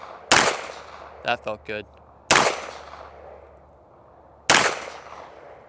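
Three sharp pistol shots from a custom 2011 handgun crack out about two seconds apart, loud and close outdoors, with someone speaking briefly between the first two.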